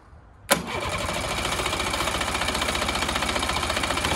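An outboard motor on a boat trailer cranks briefly and catches, then settles into a steady, loud, rapidly pulsing run close by.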